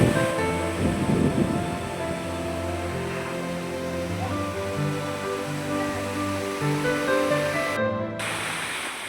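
Anandwadi waterfall, a broad continuous roar of falling water heard close by, steady throughout with a strong low rumble beneath.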